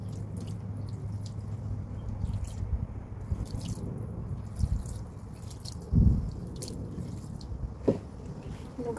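Rotten lily plant bulbs being washed with water, soft drips and wet squishing handling sounds close up over a steady low background noise.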